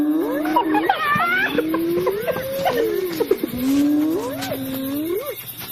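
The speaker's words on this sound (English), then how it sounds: "Her growl is stronger than she is." A leopard growls with a deep, wavering rumble that rises and falls over several seconds, close and fairly loud with wild ambience behind it.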